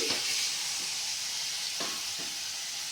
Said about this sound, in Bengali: টমেটো কুচি দিয়ে এবার এই মশলাটাকে আমি সুন্দর করে কষে নেব